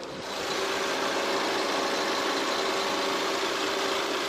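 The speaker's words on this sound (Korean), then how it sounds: "바로 엔진 소리 먼저 들려드리도록 할게요" A large family SUV engine idles close by, a constant broadband rumble and hiss with no change in pace and no voices.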